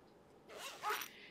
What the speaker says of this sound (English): And it zips from both sides.